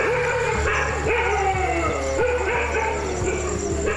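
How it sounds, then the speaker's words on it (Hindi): Several village dogs in Gir Forest barking and yelping repeatedly in short overlapping bursts, fairly close, with a low steady hum underneath. "कुत्ते खतरा भांपकर इकट्ठे तो हुए हैं"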